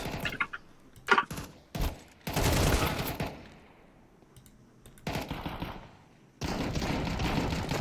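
Counter-Strike 2 AK rifle fire: a few sharp single shots, then loud sustained automatic bursts separated by quiet gaps, with faint keyboard clicking in the background.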